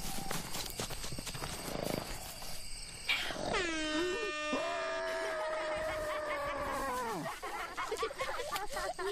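A loud, sustained air horn blast cuts in after some rustling and holds for several seconds before dropping off.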